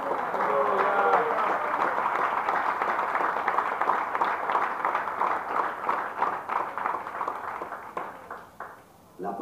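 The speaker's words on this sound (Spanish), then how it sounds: "Aplauda al Señor" A church congregation applauding together during a sermon, a dense, steady wash of clapping that carries on for several seconds before thinning out near the end.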